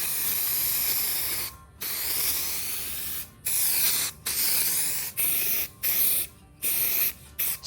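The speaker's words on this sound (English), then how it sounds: "So we're just going to spray it red now." A small red spray paint can with a wide fan hisses in repeated bursts on a Jeep Wrangler part, each lasting about a second, separated by short pauses, loud and close.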